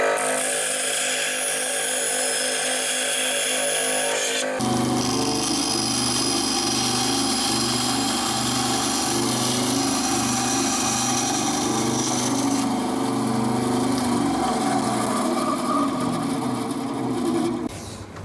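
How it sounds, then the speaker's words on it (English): A bandsaw cuts through wood for a woodworking jig, its steady whine and rasping blade noise running continuously and loud, with a shift in tone partway through as the cut progresses. "Then we cut that out on the bandsaw."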